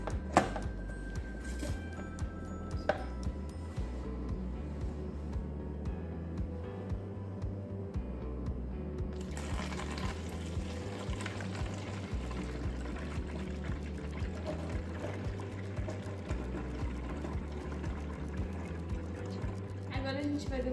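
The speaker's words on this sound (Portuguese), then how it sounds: "Agora a gente vai encher esse litrão." Water pours steadily into a 1-liter plastic bottle, a faint trickling fill heard beneath a person talking, with a few light knocks of handling near the start.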